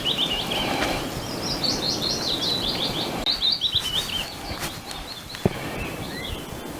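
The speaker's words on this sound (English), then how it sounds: "It's lovely hearing the birds" Birds chirp and trill along a nature trail in Ireland's Burren National Park, their quick high phrases repeating over soft outdoor background noise and a few faint footsteps.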